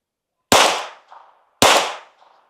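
.22 pistol fires two sharp, close shots about a second apart, each with a short decaying echo, no talk.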